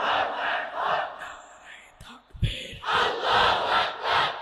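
A crowd at an Islamic religious sermon gathering chants a takbir slogan back in loud, rhythmic bursts of massed voices, fairly close, with a short pause and a low thump in the middle.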